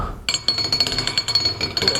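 Small Turkish tea glasses clink and tap against saucers and a tray as tea is served, producing a quick, uneven series of bright, close chinks with no talking.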